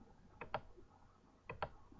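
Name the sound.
computer mouse clicking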